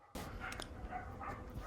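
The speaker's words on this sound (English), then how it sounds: "I'm going to go rescue my dogs. I think they've cornered a possum." Dogs bark outdoors at a small baby possum they have cornered, giving a dense, continuous run of overlapping barks and yips at close range.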